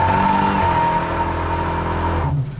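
A 1970 Chevrolet Chevelle SS V8 roars loud and close at full throttle in first gear, a sustained engine howl that cuts off sharply near the end.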